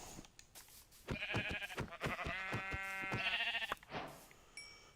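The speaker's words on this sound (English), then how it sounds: "I see a sheep already" Sheep bleating in the Minecraft video game, a run of several close, clear bleats in quick succession with short pauses, alone without talk.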